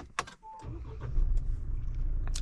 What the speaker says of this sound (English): Fully reset the car